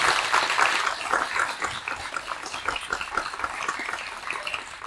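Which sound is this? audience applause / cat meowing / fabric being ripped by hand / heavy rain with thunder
audience applause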